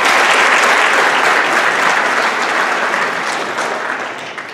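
Sustained applause from a large crowd at a junior honor society induction ceremony, loud and dense throughout, gradually tapering slightly toward the end with no talking.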